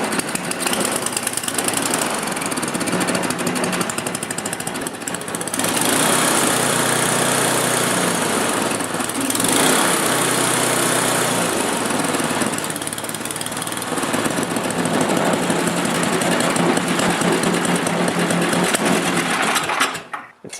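A small gasoline snowblower engine runs continuously up close, a loud, rattling, high-pitched drone that dips and steadies as it idles.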